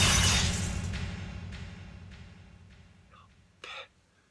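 A window pane shatters as a thrown stone hits it, a sharp close crash followed by tinkling glass fragments that fade away over a few seconds, ending with one brief extra clink.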